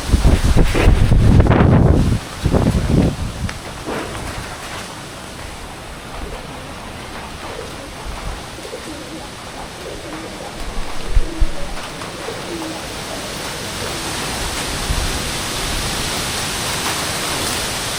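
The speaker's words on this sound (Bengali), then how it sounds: "দর্শক দেখুন, বাতাসের কত বড় শক্তি, বাস ঝাড় মনে করেন যে একবারে উল্টে ফিরবে, এমন অবস্থা।" A strong Kalbaishakhi storm wind sweeps through a village. Heavy gusts buffet the microphone in loud roaring bursts at the start, then settle into a sustained rushing roar that swells again near the end, while a bird coos faintly.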